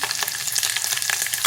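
Garlic and chopped green chillies frying in hot oil with urad dal in a pan: a brief, close crackling sizzle with quick pops and light stirring, no speech.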